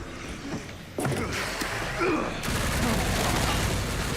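Gunfire and heavy impacts from the Resident Evil Requiem video game, a couple of sharp blasts and booms among game noise, with faint voices talking underneath.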